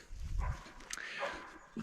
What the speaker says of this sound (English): these dogs are gonna drive me nuts